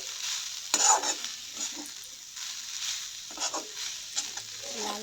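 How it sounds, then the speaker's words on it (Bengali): Grated coconut is stir-fried in a pan, soft scraping and rustling strokes of a spatula over a faint sizzle, close and fairly quiet, in uneven bursts with no speech. "এবার নারকেলটা ভেজে নেবো একটু"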